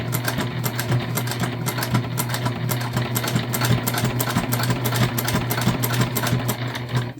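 A sewing machine slowly top-stitches a thick shoulder bag, its motor humming steadily with a regular pulse of needle strokes, loud and close throughout with no pause.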